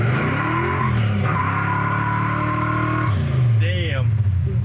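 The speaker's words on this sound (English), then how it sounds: "How about that thumping cam?" A 1972 Chevy Nova's engine with a lumpy cam runs loud and close, its low thumping idle rising into a revving pull before settling, with tire-like squeal tones partway through and a voice talking over it.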